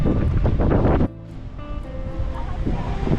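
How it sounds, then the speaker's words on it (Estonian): Ocean waves wash and break along the rocky coast of La Palma in the Canary Islands, a loud rushing surge with heavy wind noise that drops off suddenly, then builds again into a steadier nearby roar. "Siin nagu lained viskab ka päris hästi."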